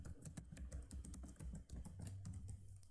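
Close, rapid clicking of keys on a computer keyboard as a password is entered, a quick irregular run of taps with short pauses and no talking.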